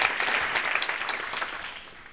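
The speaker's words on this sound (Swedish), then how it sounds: "Ja, men vi ger dem en applåd, eller hur?" A short burst of clapping from a small group at a conference, brisk and fairly close, fading out toward the end.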